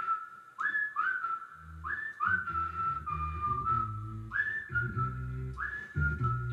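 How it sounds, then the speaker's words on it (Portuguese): A whistled melody patched into a homemade hip-hop beat repeats its short rising phrases over a deep, steady bass line, clear and upfront. "no primeiro patch eu pus aqui um som, um assobio"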